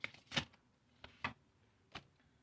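Tarot cards being shuffled and drawn, four or five quick, soft flicking and slapping bursts spaced apart in a quiet room, with no talking.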